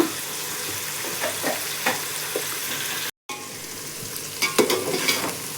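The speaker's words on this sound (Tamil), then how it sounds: "வெங்காயம் கொஞ்சம் சீக்கிரம் குக் ஆகிடும். அதனால இல்லை, இது நல்லா ஃப்ரை ஆகட்டும் கோல்டன் ப்ரௌன் கலரில்." Onions frying in a pan, stirred now and then, for a vegetable pulav; steady sizzle close by with scraping stir strokes, a brief dropout midway, then louder stirring.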